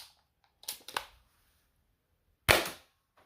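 An MZ01 MangZhong lever action Nerf blaster gives a clattering double clack as the lever is worked, then after a pause fires one sharp snapping shot up close with a short rattling tail.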